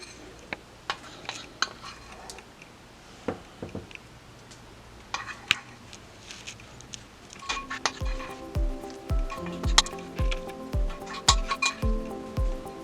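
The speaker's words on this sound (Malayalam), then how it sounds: "ഇനി നമ്മൾ ഈ മിക്സ് ആക്കി വെച്ച ബാറ്റർ ഇതിലേക്ക് ഞാൻ ഇട്ട് കൊടുക്കുന്നു." Batter being added to sliced chicken breast in a bowl, with scattered clinks of utensils against the bowl that grow into a quicker series of ringing taps and scrapes near the end.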